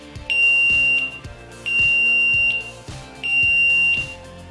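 An AS0808 multifunction bicycle lamp's built-in beeper sounds an alarm signal three times, each a loud, sustained electronic tone of about a second, separated by short pauses.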